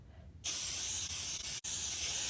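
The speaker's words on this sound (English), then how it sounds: "You just shake the can vigorously for a couple of seconds, and then you're going to spray it." A sustained aerosol baking spray hisses loudly and steadily from an abrupt start while coating a cake pan, with one very brief break partway through, close to the microphone.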